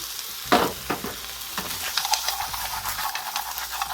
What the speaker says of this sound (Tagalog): Saka natin dagdag ang ating mixed seafoods guys. Ito, tahong, calamare, crabs, saka hipon guys.